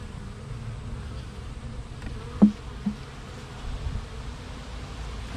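Bees buzzing around an active beehive that a swarm has moved into, a steady low drone of many insects close by, with a couple of brief knocks or taps breaking through partway.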